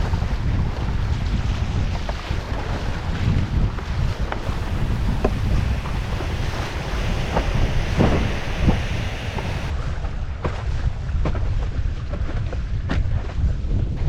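Strong wind and sea noise while windsurfing upwind off the English coast toward the Isle of Wight, a steady roar of wind buffeting the microphone over rushing water and slapping waves, continuous and loud with no talking.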